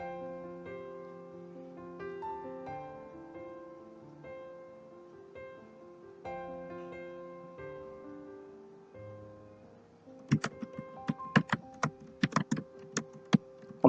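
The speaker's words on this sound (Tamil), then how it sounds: "கரெக்டான ஆன்சரை டைப் பண்ணுறேன்." Keys on a computer keyboard are typed out an answer in a form, a run of sharp, separate clicks at an uneven pace. They follow a stretch of soft background music and are heard up close with no talking.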